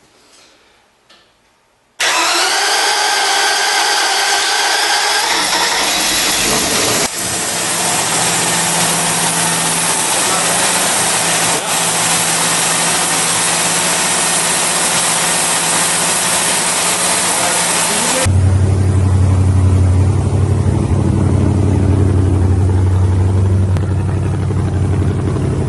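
A rebuilt Chevy 283 V8 cranks over and fires, then runs steadily and loudly at a fast idle for over twenty seconds, its rumble deepening near the end as the engine settles.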